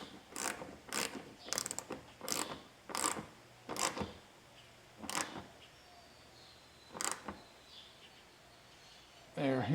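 Retightening a bolt on a 2020 Toyota Tacoma during a tire-rubbing fix: a string of about nine quick ratchet clicking bursts, steady at first, then a pause and two more, fairly close over a quiet background.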